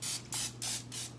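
Aerosol cooking spray misted in three separate bursts onto plastic wrap that will cover bread dough, each hiss loud and close with short pauses between.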